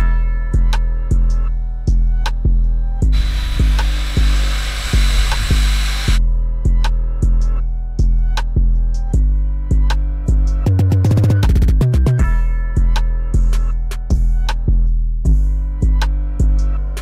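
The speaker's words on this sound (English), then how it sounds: "I'm gonna start off with debadging the Dodge with the hair dryer." A hair dryer blows steadily while heating and removing the badge from a Dodge Charger R/T, close and loud with a rhythmic pulsing hum throughout and a brief burst of extra hiss partway through.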